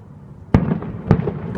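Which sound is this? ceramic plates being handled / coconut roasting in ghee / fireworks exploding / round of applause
fireworks exploding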